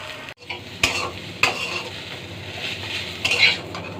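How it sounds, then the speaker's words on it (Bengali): Onion and garlic frying in mustard oil while being stirred, a steady close sizzle broken by a few sharp scrapes and clinks of the utensil against the pan. "এরপর আমি ভালো করে এটাকে নেড়ে চেড়ে নিচ্ছি"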